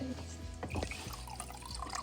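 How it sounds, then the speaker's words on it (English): Water is poured into a cup for homemade lemonade, a quiet, fairly steady trickle and splash that lasts about two seconds under an ongoing voice talking nearby. "Next, we're going to add water in our cup."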